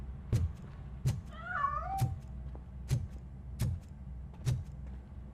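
A cat meows in the video game RoboCop: Rogue City, one clear wavering meow in the middle, set against a steady low hum and a regular series of sharp thuds or footsteps.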